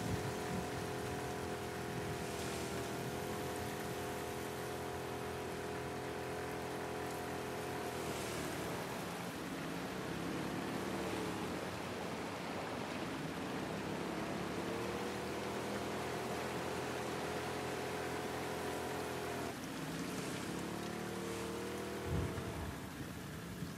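Steady rain falls in The Last of Us Part II, a constant close patter running through the scene with faint tonal game sounds beneath it and no talking.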